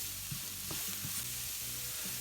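Food for pasta shapes on toast sizzles in a frying pan, a faint steady hiss of frying with a few soft stirring scrapes and taps, no voices.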